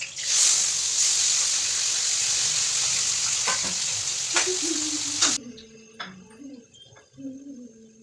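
Food frying in a kadhai set on the stove to heat, a broad steady sizzle for about five seconds that cuts off abruptly, leaving a quieter stretch with faint clatter and birds cooing in the background.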